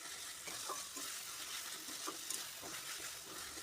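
Onion paste and chili paste masala sizzling and frying in oil in a pan for a spicy Bengali chicken curry, a soft steady crackle with occasional stirring scrapes, fairly quiet and without talk.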